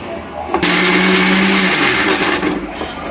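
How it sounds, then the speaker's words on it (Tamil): A mixer grinder whirs at full speed as it blends cut tomatoes for rasam, starting with a sharp motor burst and then holding a loud, steady grinding roar with no voices. "இதையும் நாங்கள் மிக்ஸி ஜாரில் போட்டு அரைக்க போகிறோம்"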